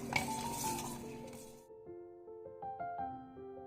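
A spoon swirls and clinks against a glass of strawberry lemonade, with ice cubes rattling in quick, irregular taps and a bright liquid swish at the start, close up.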